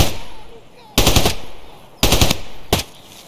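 Three sharp bursts of gunfire in the video game Russian Hoarding Simulator, loud and close with quiet gaps between, the last burst shorter.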